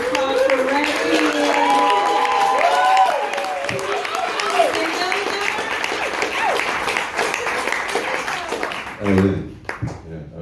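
A bookstore audience applauds for comedian Reggie Watts at his book launch, with sustained clapping and crowd noise mixed with voices and some tonal sounds, tapering near the end as a few louder knocks break through.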